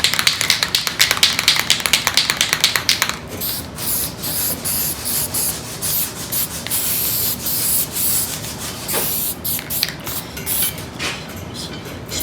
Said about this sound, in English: we can go ahead and hit that with the self-etching primer now.